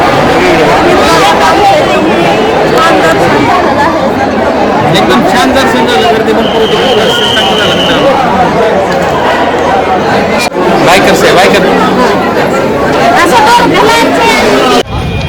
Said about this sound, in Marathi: इकडं गर्दी बघा भरपूर गर्दी आहे